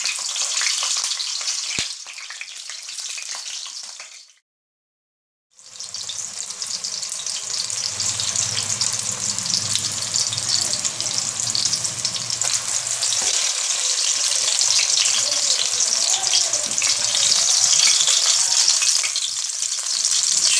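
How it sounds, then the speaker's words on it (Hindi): Green chillies fry in hot oil in a kadai with a loud, steady, crackling sizzle that stops briefly for about a second, then resumes at full strength. "ऑयल के जो ना छींटे बहुत ज़्यादा आते हैं जब आप मिर्ची फ्राई करते हैं"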